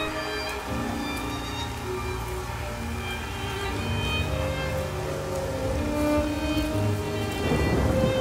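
Steady rain pours throughout in a video game scene, a dense, even hiss with a low rumble that builds slightly toward the end, with no voices.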